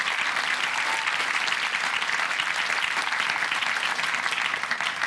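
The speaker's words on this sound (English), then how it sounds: "Let's give them all a really big round of applause" An audience at a youth awards ceremony claps loudly and continuously for young musicians, a dense, even wash of applause throughout.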